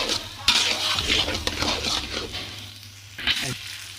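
Chinigura rice stirred and fried in a pot for chola biryani: a spoon scrapes and clanks against the metal repeatedly over a soft sizzle, close up, with a few sharp knocks and no speech.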